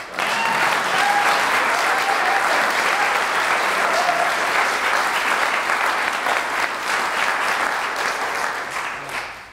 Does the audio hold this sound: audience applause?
yes